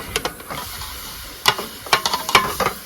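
Onions sizzling in a hot pan for a chicken liver gravy, a steady crackling fry broken by sharp scraping stirs of a spatula, close and loud, with no talking.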